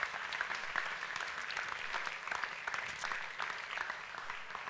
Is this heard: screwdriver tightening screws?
no